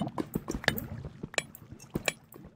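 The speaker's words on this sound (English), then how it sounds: "Someone's been running through the water." Splashing footsteps of a character running through shallow water in a video game, a quick irregular series of soft wet splashes and drips heard close and fairly quiet, with no talking.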